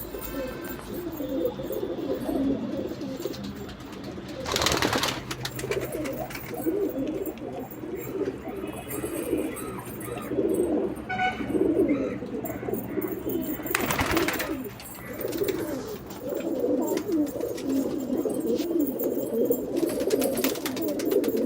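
Male Andhra and Madraz pigeons kept at home coo continuously in an overlapping low chorus, broken by two brief bursts of rustling or flapping noise.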